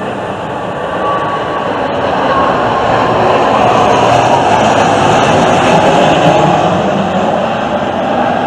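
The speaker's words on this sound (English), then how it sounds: "Oh, here comes another jet." A jet airplane passing overhead near Sioux Falls, a loud, steady broadband roar that swells slightly and holds for several seconds with no voices.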